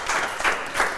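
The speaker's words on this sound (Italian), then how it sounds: "Facciamo un applauso a questo messaggio." Crowd applause at a cycling-themed show, a loud, dense, continuous patter of many hands with slight surges in intensity.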